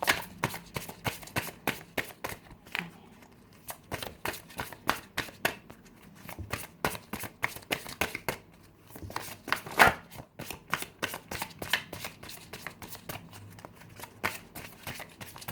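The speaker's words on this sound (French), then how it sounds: "J'aimerais bien qu'il y ait une carte qui saute, mais sinon je vais tirer une carte." Tarot cards shuffled continuously for about fifteen seconds, a steady stream of rapid papery riffles and soft slaps with one sharper snap near the middle, close up and fairly quiet, with no speech.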